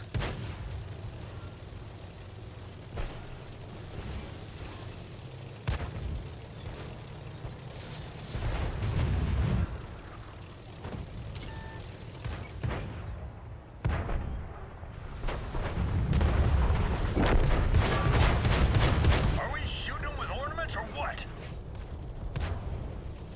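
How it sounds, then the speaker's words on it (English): Artillery fire and explosions from the World of Tanks game, with deep rumbling booms that swell repeatedly through the passage over a constant low battle drone, loud and close, while someone talks over them. "Nah, nope, artillery, leave me alone."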